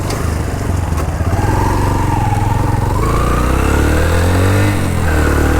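A motorcycle engine runs close by at the start of a 152 km canal ride from Mangla Dam, Mirpur, toward Gujrat, a loud, steady throbbing idle that rises and swells in pitch with revs partway through.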